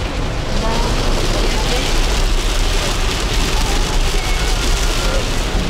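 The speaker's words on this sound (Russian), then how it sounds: "сезон дождей" Heavy tropical rain during the rainy season on Bali pours down as a steady, dense roar of drops striking surfaces, loud and continuous throughout, with no voices standing out.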